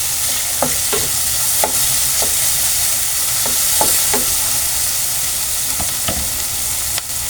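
Tomatoes sauté in an oiled pan with a steady sizzle and fry, broken by repeated spatula scrapes and stirring clicks, close and clear with nobody talking.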